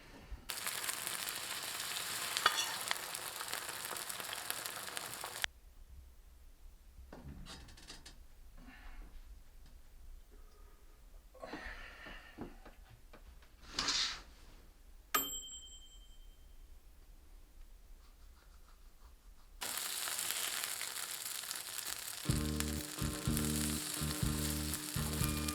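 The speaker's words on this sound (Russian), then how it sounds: "Начинаю жарить дранички." Potato pancakes (draniki) fry in a pan with a dense, crackling sizzle. It is loud at the start, falls away to a quiet stretch with a few faint knocks and clinks, then returns strongly near the end.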